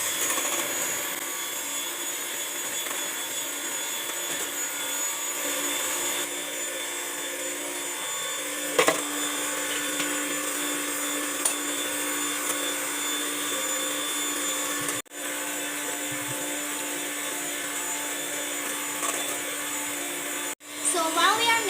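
Homemade ice cream mixture being churned in a bowl by an electric mixer, a steady loud motor whir running continuously for the whole stretch with a couple of brief dips.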